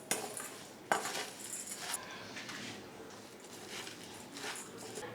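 A spoon stirs moistened flattened rice (aval) in a bowl, giving close, soft scraping and clinking strokes in an irregular rhythm, a few sharper taps against the rim at the start.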